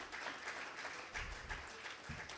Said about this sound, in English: So a big round of applause for Rajat.